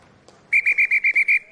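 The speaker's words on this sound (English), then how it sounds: "The whistle goes, that's half-time." A referee's whistle blown for half-time at a school and college rugby match between Ysgol Glantaf and Coleg y Cymoedd: seven quick, shrill, evenly spaced blasts, close and loud, with no talk over them.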